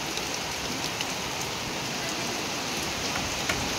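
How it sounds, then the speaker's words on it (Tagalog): Heavy rain pours steadily and loudly, a dense continuous hiss of drops close by, with no one speaking. "Grabe yung ulan."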